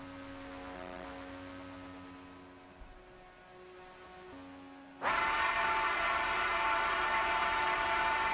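A train-like drone from an album, with steady sustained tones and a low rumble that abruptly jumps to a much louder, dense, harsh roar partway through, continuing unbroken with no talk.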